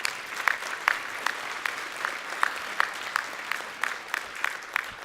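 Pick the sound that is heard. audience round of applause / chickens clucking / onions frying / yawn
audience round of applause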